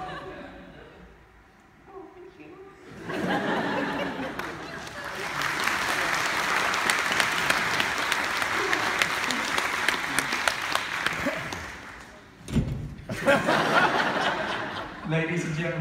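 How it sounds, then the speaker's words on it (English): A convention audience bursts into sustained applause mixed with some laughter, loud and continuous for several seconds, dipping briefly before swelling again. "please join me in your own massive round of applause"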